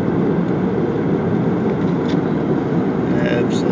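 Steady, loud engine drone and rushing air fill an airplane cabin in flight over the Grand Canyon, a constant broadband roar with no breaks.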